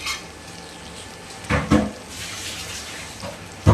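Fish gets washed in water at home, with a few splashing, sloshing bursts and light clatter of a pot over a quiet room tone, close by and intermittent.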